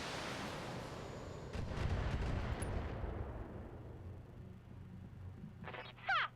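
Missile strikes in the mech game BattleTech land as a deep, booming rumble that swells and then fades, followed by a short burst of sharp electronic clatter near the end.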